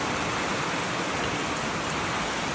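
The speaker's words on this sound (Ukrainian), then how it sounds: "Лиє дощ, лиє, лиє," Heavy rain pours down steadily outdoors in a downpour with wind, a dense unbroken roar of hiss that stays loud and even throughout with no pauses.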